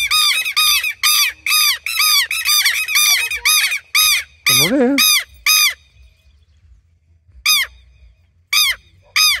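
Aggressive birds in the Quebrada de las Señoritas, Salta, squawk in a fast run of harsh, loud, close caws, then a brief wavering cry and a few scattered calls; someone speaks briefly between them.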